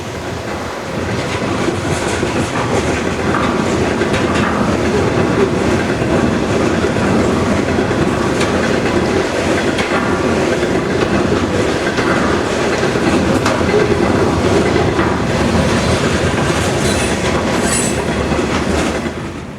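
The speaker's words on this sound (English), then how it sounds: "The westbound train is crossing the Huron River near Ann Arbor." A heavy Conrail coal train in winter rumbles across the Huron River bridge near Ann Arbor, continuous steady clattering of wheels on rails with occasional faint squeals, loud and close throughout.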